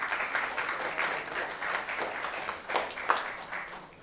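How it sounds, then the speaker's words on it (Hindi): A seated crowd at a stage drama program claps steadily for the secretary of a charitable organization, a continuous even wash of applause lasting a few seconds. "उनके लिए आप तालियां बजाएं।"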